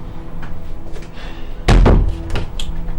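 A door is pushed shut indoors, a single loud close slam with a short rattle after, set among faint room sounds and light movement.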